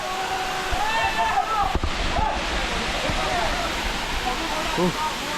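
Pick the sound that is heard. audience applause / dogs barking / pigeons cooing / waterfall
waterfall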